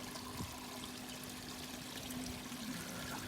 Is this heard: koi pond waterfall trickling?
yes